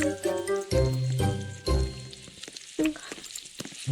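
Bacon sizzling on a griddle in the video game Burger Game gives bursts of frying crackle, joined by clinks and short musical game tones that come and go in quick separate pulses.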